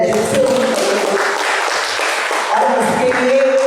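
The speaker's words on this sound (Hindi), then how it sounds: "तो शिवरतन जी के लिए एक बार जोरदार तालियां हो जाए" Sustained applause from an audience, a steady wash of many hands clapping at a public event, with faint voices mixed underneath.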